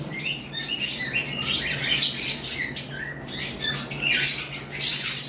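Pet lovebirds call steadily and close by with shrill chirps, tweets and squawks, many overlapping, over a low constant hum.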